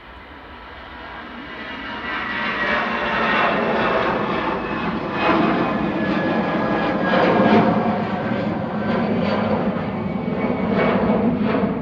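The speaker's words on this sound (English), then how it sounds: "Vueling on the roll to Barcelona, flight X749, A320 Classic, EC MYB" A Vueling Airbus A320 Classic rolls for takeoff from Manchester Airport, its jet engines building from a rumble into a sustained, surging roar across twelve seconds, loud and unbroken by speech.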